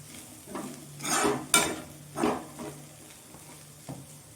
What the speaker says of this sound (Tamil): இப்போ உப்பு சேர்த்து நல்லா கிண்டி விடலாம்.